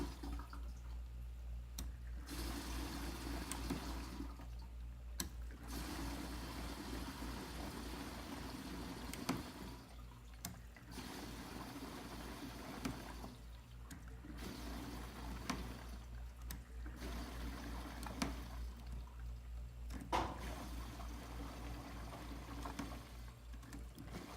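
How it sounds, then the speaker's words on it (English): Gasoline drains from a container in a faint, steady trickle with intermittent pouring bursts and pauses over a low background hum. "you just want to keep draining this until it turns clear"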